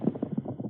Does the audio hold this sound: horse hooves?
yes